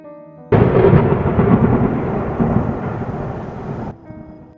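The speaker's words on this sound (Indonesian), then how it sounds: "Kilatan petir terus bersambaran, diiringi angin berhawa sangat dingin berhembus kencang." A loud thunderstorm crash with rumbling and a roar of strong wind, surging in suddenly and holding for several seconds before cutting off, with a faint musical drone underneath.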